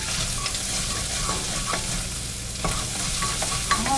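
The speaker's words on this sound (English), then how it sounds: "I got my onions cooked down real good." Onions fry and sizzle in a pot for corn chowder while a utensil stirs and scrapes them, a steady sizzle broken by short clicking stirs, close and without talk.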